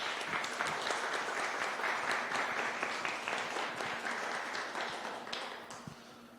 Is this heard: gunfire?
no